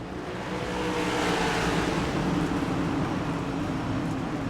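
A pack of ARCS Midwest A2 Cup Series race cars runs under caution at night, a steady, loud, dense engine drone from the field with no gaps.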